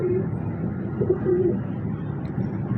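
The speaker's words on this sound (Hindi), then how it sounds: "ये सलारा डैडी कबूतर है जी।" A pigeon coos softly at close range, a few short low murmuring calls over a steady background hum.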